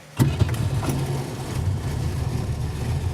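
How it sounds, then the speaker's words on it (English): A 1967 Dodge Dart engine cranks and catches at once without throttle, then settles into a steady, fairly quiet idle that continues close by. "So I'm just going to start this car up, and you'll see how quickly."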